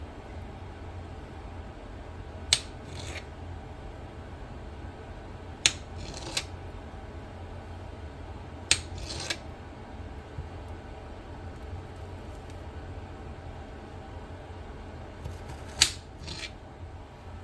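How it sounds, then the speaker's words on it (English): A knife slices through peeled hard-boiled eggs on a board, a handful of crisp, separate cuts spaced a few seconds apart over a steady low background hum. "what I'm going to do with these eggs is I'm just going to cut them in half."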